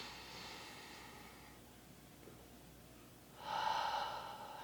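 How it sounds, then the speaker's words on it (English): A slow, deep inhalation during a guided breathing exercise, soft and airy at first, then swelling louder and closer near the end, with no talking. "take a deep breath in"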